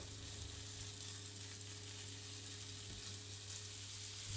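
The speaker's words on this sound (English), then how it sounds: "You coat the prawns with cornstarch and start frying on medium to high heat" Cornstarch-coated prawns fry over medium-high heat, producing a steady, faint, even hiss with a low hum underneath, unbroken and without speech.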